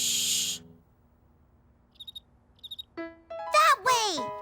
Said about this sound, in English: What sound does a cricket make?